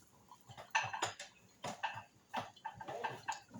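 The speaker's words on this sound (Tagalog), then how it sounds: "magpokpok lang po tayo ng bawang guys" Garlic being pounded in a kitchen gives a series of faint, uneven knocks and clatters, several strikes with short pauses between them.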